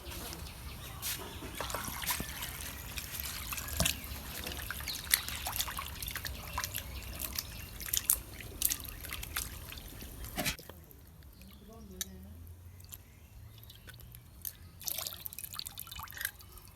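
Water trickles and drips steadily as raw chicken meat is washed in a village kitchen, a continuous splashing texture with small clatters that stops partway, leaving quiet background with faint birds.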